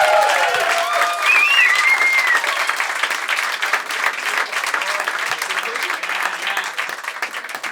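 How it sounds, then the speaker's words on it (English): A studio audience claps loudly and steadily through the whole stretch, a dense wash of applause that slowly eases off, with a few voices rising over it. "How about a hand for Taggart and Torrens?"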